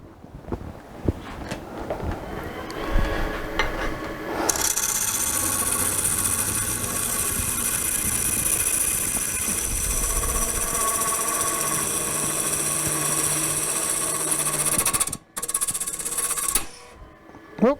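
A wood lathe turns a wooden bowl blank while the tool cuts out a crack, giving a loud, steady whirring rasp that runs on for about ten seconds before stopping abruptly, with a brief burst near the end.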